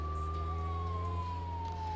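A police car siren in the Contraband Police video game wails steadily in a slow falling tone over a low engine hum, fairly close and continuous.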